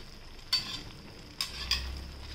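Pieces of stale chapati drop into simmering spiced buttermilk in a home kitchen pan, three soft splashy plops spaced over a steady low bubbling simmer, close and moderately quiet with no talking.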